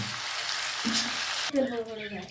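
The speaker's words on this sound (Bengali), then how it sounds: "মাংসগুলোকে হালকা করে ভাজা হয়ে গেছে এখন আমরা এটিকে উঠিয়ে নেব" Country chicken meat fries in oil, a continuous soft sizzle close by, broken near the end by a brief clatter as pieces are lifted out and a voice is heard over it.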